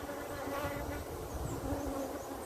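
Bees hum in a low, continuous buzz at an open hive during a brood frame check, fairly faint and steady over a short stretch.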